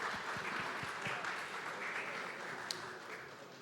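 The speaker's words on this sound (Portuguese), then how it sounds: "Salva de palmas mais uma vez aí." An audience at a talk on the gaming market and Web3 games gives a round of applause, fairly faint and distant, a continuous patter of clapping with a few louder individual claps near the start.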